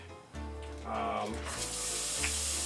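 Ground meat hits a hot, smoking pan for a keto sloppy joe casserole, setting off a loud, steady sizzle that swells and holds throughout.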